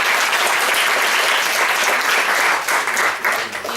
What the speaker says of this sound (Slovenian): lahko še vsi skupaj zaploskamo še enkrat